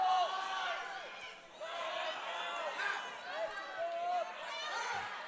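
A crowd at a high school wrestling meet between Caribou and Fort Kent cheers and shouts loudly throughout, with excited voices rising and falling in waves.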